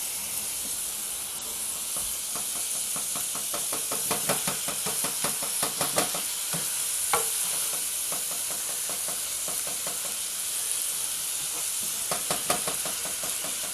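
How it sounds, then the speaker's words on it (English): Vegetables sizzle and hiss in hot shortening in a pan, with a steady frying crackle and bursts of scraping and knocking as they are stirred around. "shortening and get them just kind of cooked a little bit. Just kind of stir fry them around."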